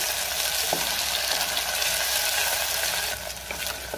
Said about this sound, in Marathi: आले लसणाची पेस्ट मी 1 मिनिटभर परतून घेते